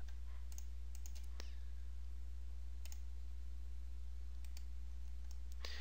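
Computer mouse clicks while working in SolidWorks CAD software: a handful of sharp, quiet, close clicks in small irregular clusters over a faint steady hum.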